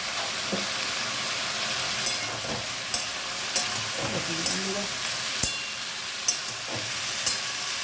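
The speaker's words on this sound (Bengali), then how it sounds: "এটা একটু নাড়া নাড়াচাড়া করে এটাকে ঢাকা দিয়ে দেবো" Bottle gourd greens frying in a pan are stirred with regular scraping knocks over a continuous soft sizzle, with faint talk in the background.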